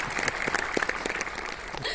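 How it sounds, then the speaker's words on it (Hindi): Applause from an audience at a live comedy show honouring award winners, a dense wash of clapping lasting a couple of seconds with faint voices mixed in. "जोरदार तालियां उन सबके लिए जिनको आज अवार्ड्स मिले हैं"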